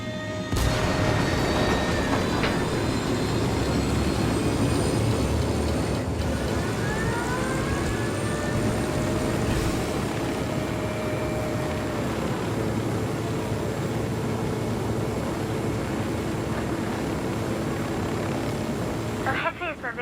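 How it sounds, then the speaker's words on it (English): Helicopter rotor and turbine in the video game Ghost Recon Wildlands, a steady, dense roar holding at constant loudness throughout, with faint game sounds layered over it. "Let's take your helicopter."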